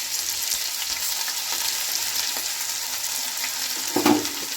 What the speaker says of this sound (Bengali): তেলটা গরম হয়ে গেছে, এবার এতে একটুখানি রসুন দিলাম প্রথমে, তারপর আদা দিলাম